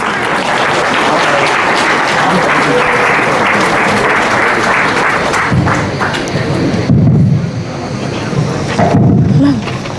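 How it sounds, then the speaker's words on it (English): A large auditorium crowd at a live TEDx event gives a long, loud, sustained round of applause welcoming a chairman and CEO, with a roar of clapping that stays steady throughout before a few voices emerge near the end. "Let's welcome him with a huge round of applause."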